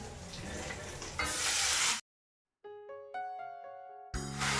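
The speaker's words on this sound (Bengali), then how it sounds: "এবার হাই ফ্লেমে এটাকে ভাজবো।" Lentils, potato, onion and tomato fry in oil over a high flame, sizzling steadily. A short musical jingle breaks in midway before the sizzling returns.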